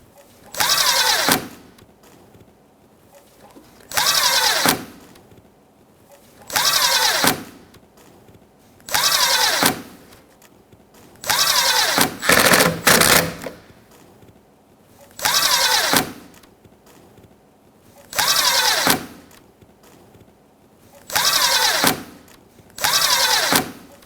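A power tool snugs down bumper clips and screws along the grille of a 2016-2022 Honda Pilot, sounding as about nine loud bursts of a second or so each, spaced by short quiet pauses, close up with no talk.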